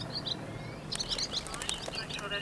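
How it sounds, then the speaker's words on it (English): Goldfinches and linnets chirp in a flock, bright high twittering calls scattered in quick bursts, fairly faint and mid-distance over a low background rumble. "These are goldfinches. There's also some linnets amongst them"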